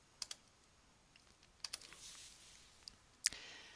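Sharp computer mouse clicks sound in dental design software, several single and paired clicks spaced irregularly, close and crisp over near silence.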